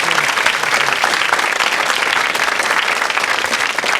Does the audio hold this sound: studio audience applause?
yes